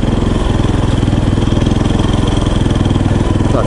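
A motorcycle engine runs loud and close at a steady idle, its low, even pulsing throb continuing unbroken with no clear speech over it.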